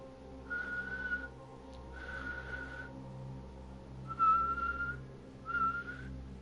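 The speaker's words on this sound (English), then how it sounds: "You basically just go into a normal whistle and then kind of purse even more and hum at the same time" Someone whistles through tightly pursed lips while humming at once, giving an amplified, wavering tone; four sustained whistled notes with short gaps, each wobbling in pitch over a low hum.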